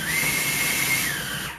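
A food processor grinds cooked chicken for buffalo chicken dip, its motor giving a loud, steady high whir that runs unbroken for the whole stretch, with no voices.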